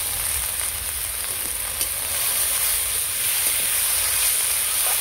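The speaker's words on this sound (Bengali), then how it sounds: "শাকটাকে ভালো করে ভেজে নেব" Chopped red amaranth greens frying in a pan for masoor lentil dal, a continuous hissing sizzle with faint stirring, close and even in level.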